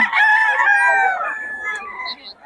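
A rooster at a Bocaue market gives one full cock-a-doodle-doo crow, close and clear, with faint clucks and quiet murmuring from people nearby.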